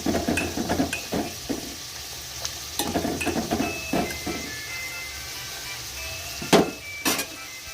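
Ridge gourd frying in a pan at home, giving a soft steady sizzle under scattered clinks and scrapes of utensils against the pan, faint and close, with no talking.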